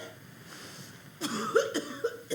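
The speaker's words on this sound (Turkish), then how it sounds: "Ablam çok fena öksürüyor." A woman coughs several times in short, harsh bursts, fairly close and loud, after a quiet stretch.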